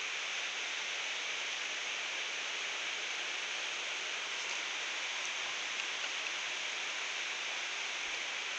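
Steady rain patters on a conservatory roof overhead, a constant hiss with no breaks or voices.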